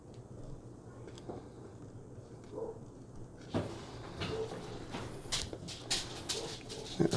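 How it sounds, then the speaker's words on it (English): Dogs bark outdoors at a distance behind indoor handling noises, growing busier partway through with several sharp barks and some whimpering, fairly faint overall. "the dogs were outside barking"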